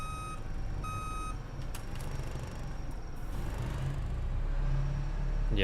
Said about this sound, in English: I like the shudders as it goes into reverse.